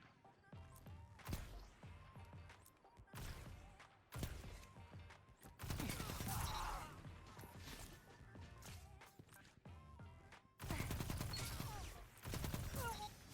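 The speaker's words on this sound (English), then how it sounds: "I'll show you the footage of me shooting my friend in the body normally, and then I will show ricochet rounds" Gunfire from the video game Destiny 2, including ricochet rounds: loud bursts of rapid shots and sharp impact cracks arriving in clusters, separated by brief gaps.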